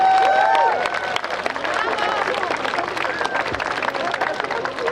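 An outdoor Independence Day crowd in Toronto applauding and cheering for a Ukrainian band, a continuous spread of clapping mixed with murmuring voices and whistles, fairly close and sustained throughout.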